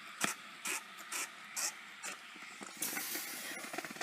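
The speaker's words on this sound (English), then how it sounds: "hover over the whole thing, more or less, at least a little bit, to start getting the steam worked into your yarn" Garment steamer hissing steam onto acrylic yarn during blocking, in short regular bursts of hiss followed by a longer, steadier spray, close and fairly quiet with no talking.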